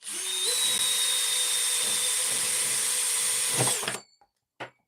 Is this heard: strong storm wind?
no